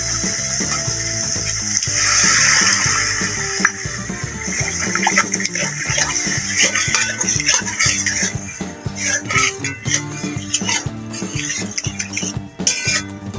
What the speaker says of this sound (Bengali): আবার একটু জল দিয়ে দেবো।